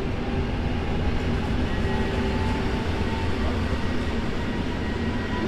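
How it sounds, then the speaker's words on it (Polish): A Polregio regional train bound for Ostrowiec Świętokrzyski pulls out of Kraków Główny station with a steady loud rumble of wagons and wheels and faint tonal hums, continuous throughout with no talk. "Punktualnie rusza skład Polregio do Ostrowca Świętokrzyskiego."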